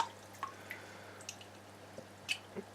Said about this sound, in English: Ready to rinse off the snails from the trap